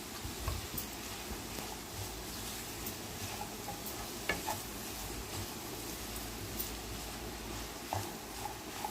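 Broad bean (flat bean) curry stirred slowly in a frying pan, giving a steady soft sizzle with faint scraping stir strokes and occasional light clicks throughout, no talking.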